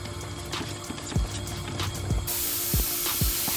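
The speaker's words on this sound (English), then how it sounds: "Let's go ahead and spray it again" Spray hissing onto intercooler piping of a Cummins diesel while checking for boost leaks, a steady hiss that swells louder partway through, with low knocks from the running engine beneath.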